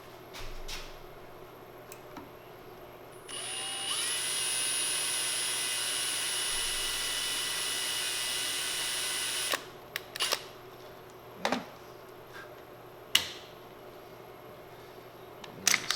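A drill bores the ramrod hole in a rifle stock in one steady, high-pitched whine lasting about six seconds. Scattered clunks and taps of handling follow.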